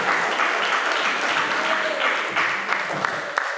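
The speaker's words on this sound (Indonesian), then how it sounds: "Tepuk tangan untuk Regu A." Audience applause for Team A at a men's Quran recitation final at a provincial MTQ competition, a steady wash of dense clapping from a crowd with a few sharper individual claps near the end.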